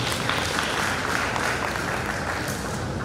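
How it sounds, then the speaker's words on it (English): A big round of applause from the audience at a university convocation, dense, continuous clapping filling the hall at a steady level throughout. "So let's give her another big round of applause."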